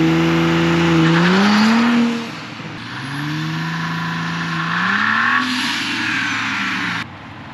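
A turbocharged car with an upgraded air intake, turbo inlet and intercooler launches hard in a drag run, its engine note climbing through two loud rising sweeps with a pause between, close and alone.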